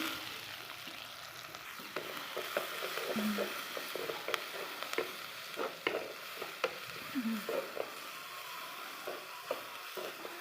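Mustard seeds and onion frying in hot oil for a gourd and bean curry, a soft continuous sizzle with scattered crackles, pops and occasional spatula scrapes, close but fairly quiet.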